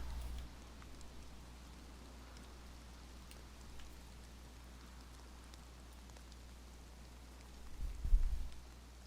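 Steady rainfall in the video game DayZ, a soft continuous hiss over a low hum, with a brief louder thump near the end; no one speaks.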